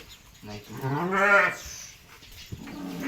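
A goat gives one clear, drawn-out bleat in the middle, fairly close, with faint shuffling and a small knock afterwards.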